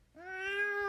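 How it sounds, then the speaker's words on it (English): A domestic cat gives one clear, rising meow, close and fairly loud, lasting under a second with no talk over it. "There's a real cat right there."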